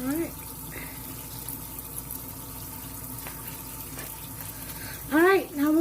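Tap water runs steadily into a kitchen sink for a vegetable-rinsing job, a continuous close splash with a brief louder gush near the end and faint voices in the background.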